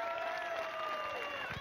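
A pageant audience at Mrs America 2008 gives a short burst of applause and scattered cheers, with a voice speaking over the clapping.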